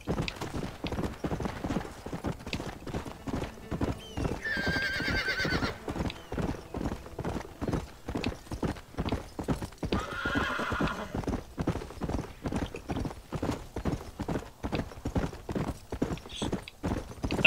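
Rapid, rhythmic hoofbeats of a galloping horse in Red Dead Redemption pound on without pause, loud and close, with a couple of whinnies breaking through.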